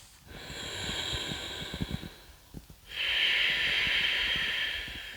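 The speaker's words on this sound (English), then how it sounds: "2 more deep breaths." Two long, deep breaths during a yoga stretch, close and airy, with a hissing inhale followed after a brief pause by a stronger, fuller exhale, alone without talk.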